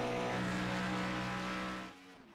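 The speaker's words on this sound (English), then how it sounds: "Stock car racing on this 2-mile oval" Stock cars in the iRacing video game roar around a 2-mile oval, a loud sustained engine drone with steady harmonic whine that drops off sharply near the end as the cars pull away.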